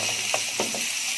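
Onions tipped into a pan of cold meat (trabiyanko) that has browned, giving a steady close sizzle with a few scraping, clicking stirs over the top.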